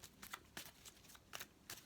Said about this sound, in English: So I'll shuffle them first.